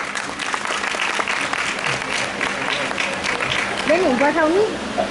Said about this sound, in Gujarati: બધા એમને બિલકુલ તાળીઓથી વધાવવા જોઈએ.